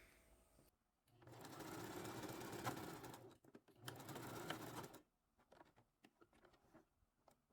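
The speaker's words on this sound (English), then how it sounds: "back stitch just to secure." A sewing machine back stitching elastic on bikini underwear, running in two steady bursts separated by a brief pause, followed by faint handling clicks.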